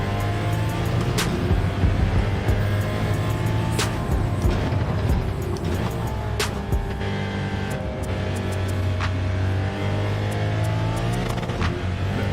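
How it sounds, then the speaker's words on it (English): Six-cylinder race cars in the Gran Turismo 7 racing game scream past at high revs under an overpass. Loud, tonal engine wails rise and fall continuously, with sharp gear-change cracks cutting through. "Loudest 6-cylinder I've ever heard."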